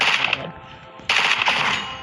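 Rapid bursts of gunfire from a modded gun in the Minecraft video game crackle close and loud, with a brief lull in the middle before a second dense volley.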